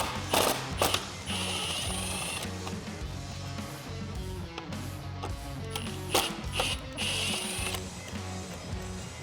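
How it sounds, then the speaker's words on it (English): A 10mm socket wrench ratchets loose the bolts holding the intake tube on a Jeep Wrangler JL, a steady run of close mechanical clicks broken by a few sharper bursts, with no voices. "I'm going to take a 10mm socket and go ahead and remove those"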